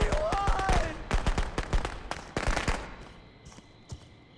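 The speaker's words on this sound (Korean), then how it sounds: "폭죽 쓴다" Firecrackers going off in Friday the 13th: The Game, a rapid string of sharp, loud cracks and pops that thin out into a few scattered bangs, with a brief whine of voice near the start.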